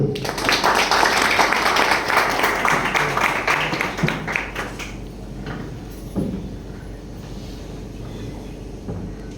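Audience applause greets a leadership achiever invited onto the stage at a business event: dense clapping fills the first five seconds, then fades into quieter crowd murmur and scattered sounds.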